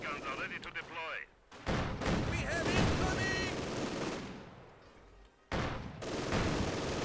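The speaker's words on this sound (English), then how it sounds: "MG42 actually opened up on the advancing" Rapid machine-gun bursts from an MG42 in the video game Company of Heroes 2, loud and dense, with battle noise and explosions layered on top and game voices mixed in.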